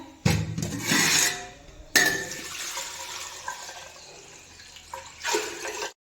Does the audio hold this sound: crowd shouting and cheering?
no